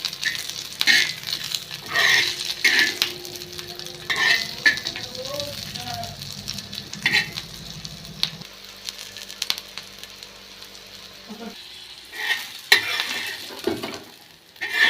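Food fries in hot oil with a steady, crackling sizzle and spatter, fairly loud and close, while people talk over it for most of the stretch.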